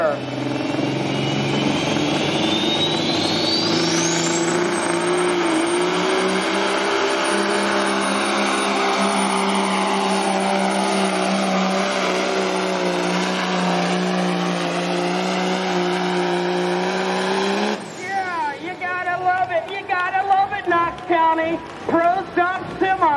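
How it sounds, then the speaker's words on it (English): A 2018 Peterbilt pro stock semi with a Cummins engine roars under heavy load at a county fair truck pull, pitch climbing steadily for a long pull before cutting off, then a voice talks over crowd noise. "A new Peterbilt running a Cummins PT 1150 engine."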